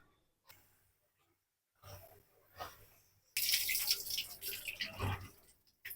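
Soaked toor dal lentils are washed by hand in water in a home kitchen: a few short swishes, then a denser run of sloshing and splashing bursts, fairly close and otherwise quiet.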